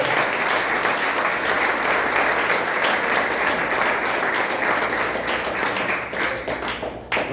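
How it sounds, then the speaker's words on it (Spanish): Loud, sustained applause from a church congregation during a sermon, many hands clapping in a thick, continuous roar that stays steady and close before tapering slightly at the end. "Regálenle un aplauso al Señor."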